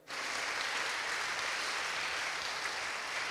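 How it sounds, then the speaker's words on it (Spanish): A congregation at a Sunday morning church service breaks into applause for the Lord, a sudden onset of steady, diffuse clapping that holds evenly and fairly softly, with no voices over it. "Dale un aplauso al Señor en esta mañana."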